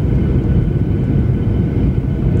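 Skymark Airlines airliner descending toward Haneda Airport, a steady loud broadband roar of jet engines and airframe noise heard from inside the cabin, continuous with no breaks.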